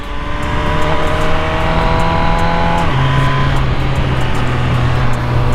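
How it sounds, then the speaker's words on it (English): A 2020 MV Agusta Brutale 1000RR motorcycle engine at close range while riding, loud and continuous, its pitch stepping as the rider shifts through gears. "oh man, I'm riding a MV Brutale. Oh, shift is smooth."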